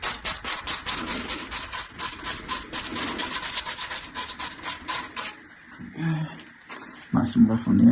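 Abrasive rubbing on the edges of a new plastic drainage pipe, a steady rasping scrape in quick repeated strokes for about five seconds, then quieter handling and knocks.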